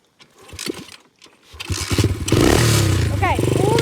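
A cold 125cc dirt bike engine is started. People talk briefly, then the motor catches and rises into a loud, rough, close idle roar that continues to the end.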